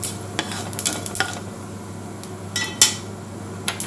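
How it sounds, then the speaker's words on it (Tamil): Fennel seeds spluttering in hot oil alongside mustard seeds and urad dal for curry leaves rice, with a spoon stirring and scraping the pan in sharp intermittent clicks over a low sizzle. "சோம்பு போட்டு சோம்பு பொரியட்டும்."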